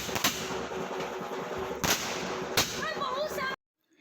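Firecrackers bursting at night during an Ashtami festival celebration, several sharp loud cracks over a dense crowd din, followed by whistling, crackling sparks before the sound cuts off abruptly.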